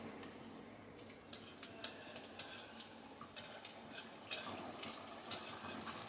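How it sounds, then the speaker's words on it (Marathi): Shankarpali sweet dough pieces frying in hot oil, a faint steady sizzle with soft scattered crackles and small pops, heard alone with no talking. "तर आता आपण सगळ्या शंकरपाळ्या याच्यामध्ये टाकून घेऊया."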